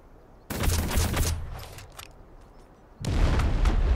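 Grenades going off in Delta Force, two loud close bursts of explosive noise a few seconds apart, each with a rough crackling tail, and no talking.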